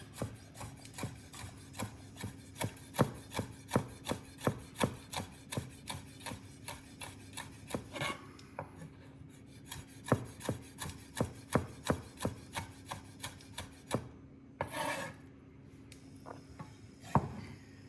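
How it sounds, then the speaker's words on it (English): A knife finely chops chillies on a board in quick, even rhythmic taps that come in bursts with short pauses, close and clear, with no talk. "I'm going to finely chop the chilies."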